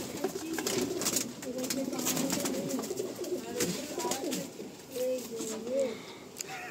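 Pigeons coo continuously in low, throaty, overlapping calls, fairly close, with occasional brief clicks and rustles mixed in.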